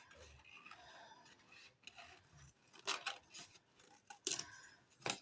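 Scissors snip through card for a papercraft project, a run of crisp close cuts and rustles that grow sharper and more separate toward the end, with no voices.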